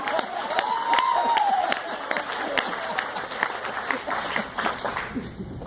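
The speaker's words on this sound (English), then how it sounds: "Applause break." Listeners applaud partway through a cohort graduation speech marking the end of a summer program, scattered claps building into a moderate round then tapering, with crowd murmurs and a whoop or two in the hall.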